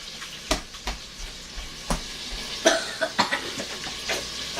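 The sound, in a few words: sausage frying in melted butter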